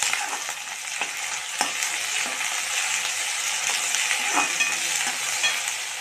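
Ginger garlic paste and asafoetida sizzle steadily in a hot pan while being stirred for a smoky Maharashtrian brinjal bharit, a dense frying hiss with soft scraping, no voices.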